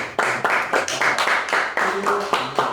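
An audience claps for a lecturer at a Korean church-history forum, a brief burst of close, uneven hand claps from a small crowd with a voice faintly underneath.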